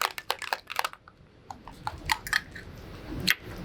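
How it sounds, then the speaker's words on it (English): A Honey Money cocktail made with Garrison Bros. whiskey is shaken briefly with ice, giving a few quick bursts of sharp, rattling clicks, close and moderately loud, then scattered clinks and pauses. "We're also going to shake this one just a little."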